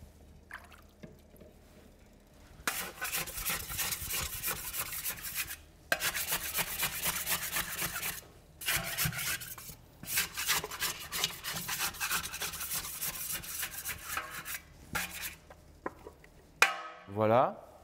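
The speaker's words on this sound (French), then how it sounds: "on en profite pour gratter le bord de la cuve" A scraper rasps repeatedly against the edge of a dough mixer bowl during mechanical kneading with sourdough starter. The scraping comes in several loud bursts of a few seconds each, separated by quieter pauses, and ends with a brief clatter.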